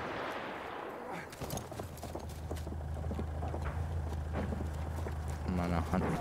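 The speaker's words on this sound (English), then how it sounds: "I'm on a hunt for this horse." Horse hooves clip-clop steadily in the Battlefield 1 video game, set against a dense battlefield rumble with scattered gunfire and engine drone, mid-distance and continuous, while a player talks over it.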